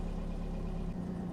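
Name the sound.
Mk1 Ford Fiesta 1.1L engine idling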